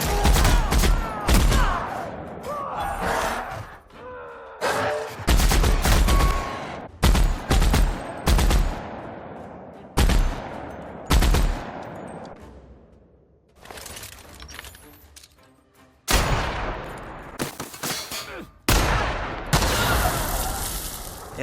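Gunfire in The Outer Worlds: repeated loud bursts of shots and rapid automatic fire come in clusters over about twenty seconds, mixed with sharp shattering impacts and brief quiet gaps between volleys.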